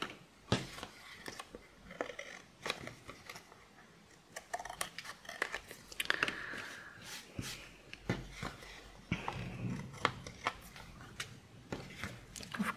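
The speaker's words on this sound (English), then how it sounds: "now let me cut the overhanging bits" Scissors trim the overhanging scraps off a paper craft piece, a series of crisp close snips and rustles at an irregular pace, quiet and with no talking.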